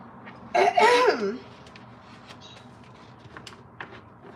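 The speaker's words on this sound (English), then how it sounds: "coughing like that, but I can't help it." A single burst of coughing, close and fairly loud, then quiet room noise with faint small clicks.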